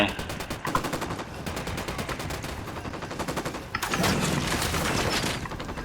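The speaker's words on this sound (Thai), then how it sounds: "ข้างนอกยิงก็ให้มันยิงกันไป" Rapid bursts of automatic gunfire from a Ghost Recon Wildlands firefight outside, repeated cracking volleys growing denser and louder toward the end, moderately close.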